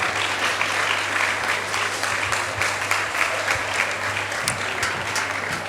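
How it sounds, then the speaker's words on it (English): Audience applause at a homecoming career guidance event, welcoming a reverend to the stage: steady, dense clapping from a large crowd throughout, loud and sustained without a break. "shall we, with a round of applause"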